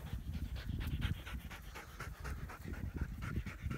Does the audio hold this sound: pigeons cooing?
no